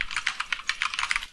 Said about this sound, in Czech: to je klikání, to tu necháme v tom zvuku